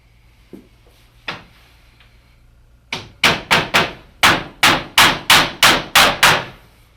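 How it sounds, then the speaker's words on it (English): A hammer drives nails while sheet lead is fixed in a roof valley. A couple of isolated knocks come first, then about ten loud, evenly spaced blows ring out close by. "I put a couple of nails in, just to stop it squirming about."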